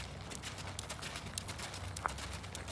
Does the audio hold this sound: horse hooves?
yes